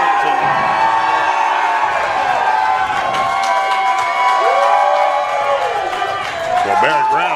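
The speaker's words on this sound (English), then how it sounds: "Barrett Brown certainly has the crowd behind him" Wrestling crowd at a GWF event in Arlington cheers and shouts in a loud, continuous roar, with whoops and rising yells throughout and a commentator's voice over it.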